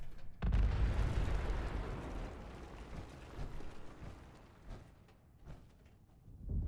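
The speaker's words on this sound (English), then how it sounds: "I'm detonating the bombs. Stand back!" Bombs detonate in the video game Fallout 76, sealing underground tunnels: a loud, sudden blast followed by a long, heavy rumble that slowly fades, with no talk over it.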